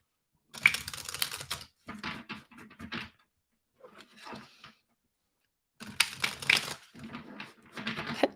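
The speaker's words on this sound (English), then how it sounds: "The cards do not really want to speak. I'm going to try and shuffle in some reversals." Tarot cards shuffled by hand to work in reversals, heard as four bursts of rapid papery riffling and clicking separated by short pauses, close to the microphone with no talking.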